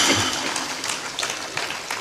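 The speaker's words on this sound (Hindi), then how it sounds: "ये ताली इनके लिए बजा दो" An audience at a spiritual gathering claps together, a brief burst of dense, steady applause that fades a little toward the end, with no talk over it.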